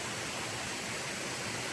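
Steady rushing roar of a waterfall beside steps bolted into rock along a mountain trail in the White Mountains, a broad constant wash of falling water heard close and alone throughout.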